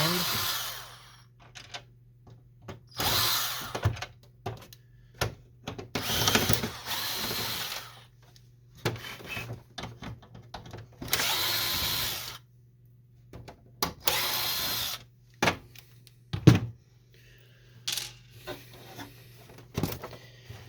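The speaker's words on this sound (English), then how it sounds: "From here we're going to remove the screws over here." Power screwdriver backing screws out of the casing of an HP Photosmart B210a inkjet printer, in repeated short whirring bursts of a second or two with quiet gaps and small clicks between, close up with a steady low hum underneath.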